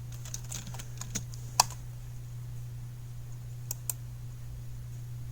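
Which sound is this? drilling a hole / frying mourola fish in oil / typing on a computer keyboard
typing on a computer keyboard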